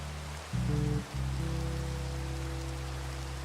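Steady hissing rain from the game Minecraft, continuous throughout, with low sustained musical tones playing beneath it and no talking.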